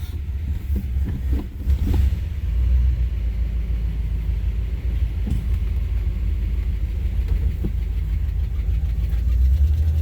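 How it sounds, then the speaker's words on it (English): An idling hot rod engine with an exhaust leak produces a steady, loud low rumble with uneven ticking pulses and a few sharper puffs near the start. "I think that's an exhaust leak."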